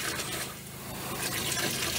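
Water running through a campervan's water system during tank cleaning with a purifying solution, a steady gushing and gurgling flow, close and fairly loud, with no speech.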